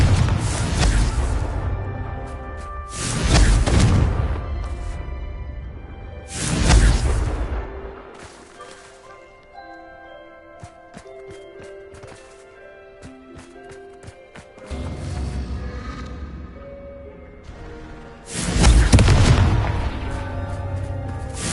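Confringo fire explosion spell cast repeatedly in the Hogwarts Legacy video game, several loud booming blasts in sequence with crackling bursts and magical shimmering tones between them.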